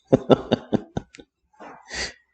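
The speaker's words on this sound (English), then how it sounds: "It's my puppy snoring." A puppy snores close up: a quick string of raspy snorts, then two longer breathy exhales.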